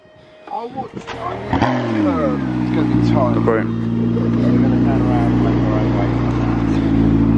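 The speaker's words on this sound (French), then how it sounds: "Je vais vous filmer le démarrage de l'Enzo." A Ferrari Enzo hypercar's engine cranks and fires up close by, then settles into a loud, steady idle with a slight rise in revs, holding strong to the end.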